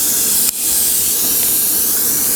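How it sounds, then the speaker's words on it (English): A spray bottle mists clean water onto a panel in a steady, loud hiss that breaks off once for a moment before continuing. "we're going to spray some clean water on the panel"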